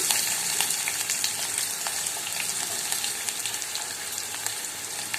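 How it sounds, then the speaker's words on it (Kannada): Onion, curry leaves and green chillies fry in hot oil after mustard and cumin seeds, giving a steady, close sizzle with light crackles and stirring scrapes throughout, and no voices. "ಸ್ವಲ್ಪ ಗೋಲ್ಡನ್ ಕಲರ್ ಬರೋ ತನಕ ಏನು ಮಾಡಬೇಕು ಫ್ರೈ ಮಾಡ್ಕೋಬೇಕು"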